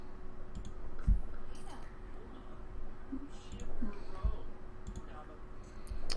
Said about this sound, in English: I'm clicking too fast, I guess.